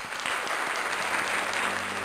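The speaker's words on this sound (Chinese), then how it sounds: "我们给小七掌声鼓励一下" An indoor studio audience claps steadily for a few seconds, the applause dense and even.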